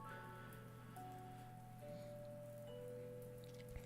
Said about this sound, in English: the first drops of rain descend, pitter-pattering on the window and tracing narrow streaks of water as they cascade down the glass pane.